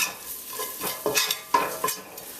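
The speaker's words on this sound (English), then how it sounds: "Stir that around because you want this to toast and really release those flavors from the different spices which make up that curry powder." Spices and curry powder being stirred as they toast in a hot pan while cooking curry chicken, with a utensil scraping and sizzling in short repeated strokes, close and moderately loud, no talking.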